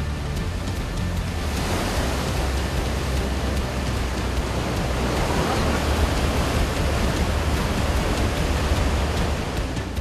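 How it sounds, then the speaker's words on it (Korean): Waves surge and churn inside a sea cave at an Indonesian swiftlet-nest harvesting site as the tide rises, a dense, continuous wash of loud water noise that swells slightly toward the end. "그야말로 집어삼킬 듯 일렁이는 파도"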